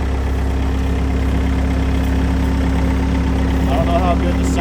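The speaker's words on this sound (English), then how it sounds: "I don't know how good the sound is going to pick up with the engine on" A skid steer engine idles close by on off-grid land while a driveway is built, a loud steady low rumble with people talking over it.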